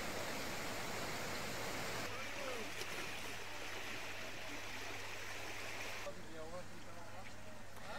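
Swollen hill river rushing in flood during heavy rains in Chandauli, a dense continuous roar of water with a brief overlay of background sound partway through.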